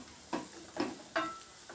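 Egg balls dropped into hot oil with a little chilli powder, bursts of sizzling and spitting coming in separate close splashes, with a quiet pan in between.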